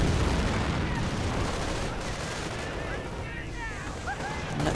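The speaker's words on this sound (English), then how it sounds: "And some very nasty artillery fire doing quite a bit of damage to the" Heavy artillery fire in a real-time strategy game battle between American and opposing forces, a dense, continuous barrage of booming blasts and crackling gunfire with faint whistling shells overhead, loud and sustained with no pauses.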